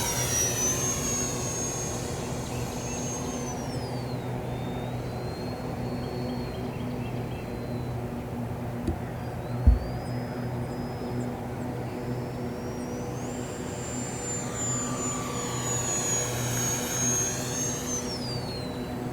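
E-flite UMX Viper 30mm EDF model jet flying aerobatics outdoors, a steady high ducted-fan whine rising and falling in pitch as it swoops past, heard continuously over background noise with no talking.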